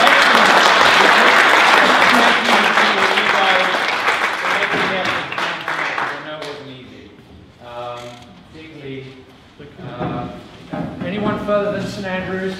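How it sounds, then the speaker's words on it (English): Meetup attendees clapping at an IoT gathering in Edinburgh: a loud burst of room applause for about six seconds that fades out, followed by someone talking. "so round of applause for our..."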